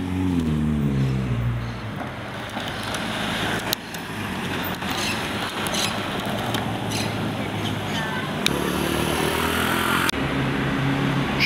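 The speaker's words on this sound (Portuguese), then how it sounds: "Olha o GT acelerando." A GT car accelerates at a street car meet in a Curitiba plaza, its engine roaring steadily and loudly through the whole stretch amid other traffic and crowd noise.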